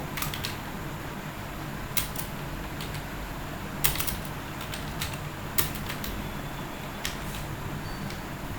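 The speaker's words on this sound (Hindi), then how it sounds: "तो जैसा कि आप देख रहे हैं, हमने टाइप करना शुरू किया।" Typing on a computer keyboard in Microsoft Word: sparse, irregular key clicks, faint and close, over a steady low hiss with no voices.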